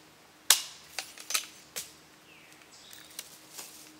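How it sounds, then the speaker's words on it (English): An M44 rifle's trigger is pulled to decock it: one sharp, close metallic click, then a string of lighter clicks and clacks from the action that thin out over the next few seconds. "And when you pull the trigger, it's going to decock it."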